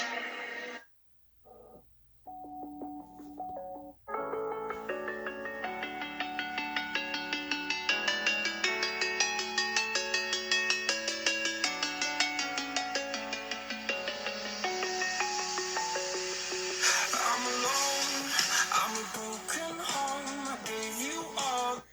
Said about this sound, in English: So this is, of course, royalty-free music. Volume is up all the way.